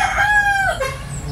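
A rooster crows once, close and loud, its call rising and then falling away, with steady low background noise and no talking.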